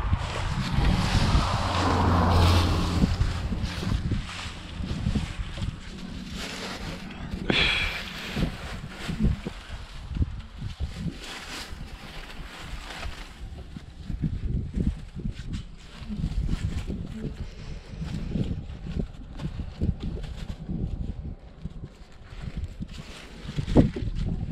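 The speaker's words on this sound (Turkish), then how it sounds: "Esiyor burası da esiyor." Strong wind buffets an open field on a rainy-looking farm day during fallow tilling, roaring gusts and microphone rumble rising and falling for the whole stretch, with no voices.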